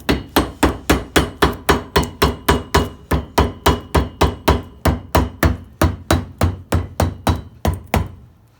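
Close, loud hammer strikes beat rapidly and evenly, around thirty blows in a steady rhythm, flattening a joint on a dog-chewed boot being restored; the hammering then stops, and no one speaks.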